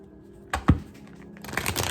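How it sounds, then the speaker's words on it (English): Quick riffling crackle of cards being shuffled, a sharp tap, then a longer flurry of papery flutter up close. "All right, we'll shuffle 3 times."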